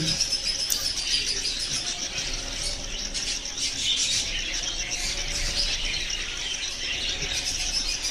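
Zebra finches and other small birds chirp in a bird farm aviary, a dense continuous chatter of high tweets and squeaks at moderate distance with no talk.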